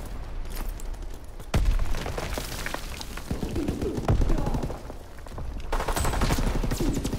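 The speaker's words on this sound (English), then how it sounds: "I hit that dude with the machine pistol once." Rapid automatic gunfire from a machine pistol in a multiplayer shooter match on a forest map, sounding as a dense, continuous rattle of close shots with louder bursts and distant booms mixed in.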